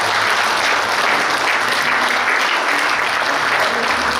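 A crowd at a military academy alumni association's leadership handover ceremony breaks into sustained applause, a thick, uniform patter of clapping that stays loud and steady from start to finish.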